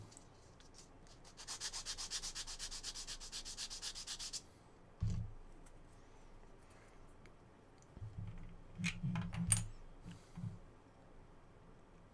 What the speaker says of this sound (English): need to rub the nubs off that